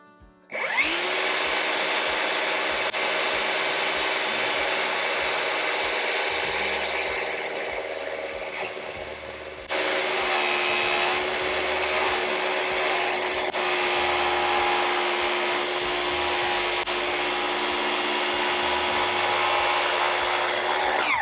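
Power saw cutting a wooden ridge beam scarf joint for an ATV carport, a loud continuous whining drone that starts abruptly and holds steady, with a brief dip and surge partway through the cut.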